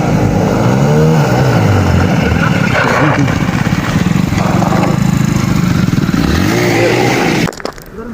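A motorcycle ridden for a wheelie at Godawari runs nearby, revving and shifting pitch as it moves, loud and continuous before cutting off near the end.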